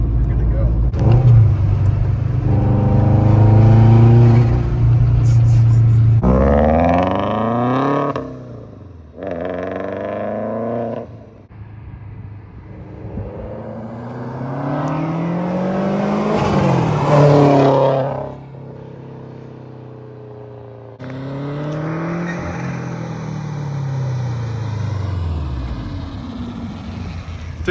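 Subaru WRX engine revs repeatedly, its turbo fluttering with a rapid stututu through a cut blow-off plate, rising and falling in loud bursts while people talk over it.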